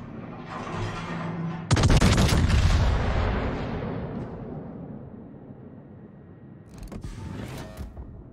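Heavy naval guns of the battleship Bismarck in World of Warships fire in one loud booming salvo that rolls out and slowly fades, with another burst of sharp gunfire near the end.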